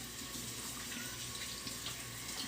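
Tap water running steadily into a sink while tie-dyed shirts are rinsed, a constant even hiss and splash, close and uninterrupted.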